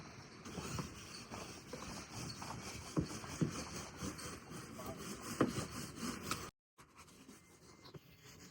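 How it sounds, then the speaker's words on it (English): A scrubber rasps across the bottom of a dinghy, clearing soft marine growth during a boat haul-out in the Bahamas. Close, rhythmic scraping strokes run steadily, then cut out briefly before a quieter stretch. "we're gonna use some scrubbers and try to do my best to get it not looking like this"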